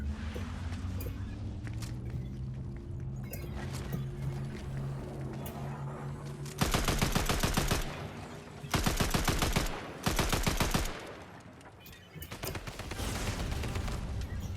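Three bursts of rapid automatic gunfire in a video game rattle out close and loud over a steady low engine hum, each burst lasting about a second with short gaps between.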